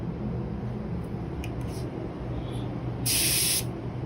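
A Graco electrostatic spray gun set to a flat fan pattern gives one short, loud burst of hissing spray late in the clip, over a steady low background hum.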